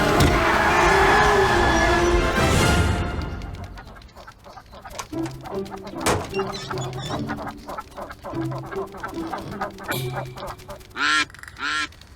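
After a loud burst of noise, cartoon ducks quack repeatedly in short nasal calls, with a few louder honks near the end.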